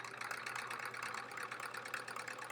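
A Sears Kenmore sewing machine stitches a straight line through quilt blocks, its steady rapid needle chatter running continuously and close at hand without pause.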